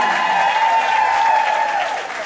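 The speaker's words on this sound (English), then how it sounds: "He deserves all the applause." An audience at an Elvis Week tribute show gives a performer loud, sustained applause with crowd cheering, tapering slightly near the end.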